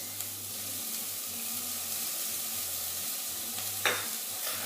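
Diced jalapeno, red peppers and red onion cook in olive oil in a cast iron pan, giving a dense, even sizzle and hiss throughout with a low pulsing hum and one brief scrape near the end; no speech.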